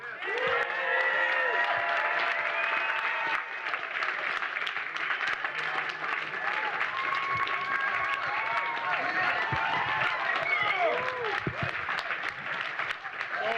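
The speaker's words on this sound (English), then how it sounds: "give a big round of applause to our Detroit brother who came from some other, George Clinton." An audience applauds George Clinton, the P-Funk pioneer, with steady, loud clapping and crowd noise throughout, cheering and voices mixed in.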